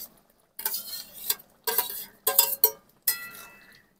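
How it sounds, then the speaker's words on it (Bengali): Boiled potatoes, fried pointed gourd and prawns being stirred together in a pot, giving several separate bursts of scraping and clinking from a utensil against the pot, close and moderately loud with short pauses between strokes. "এখন ভালো করে মিশিয়ে নেব।"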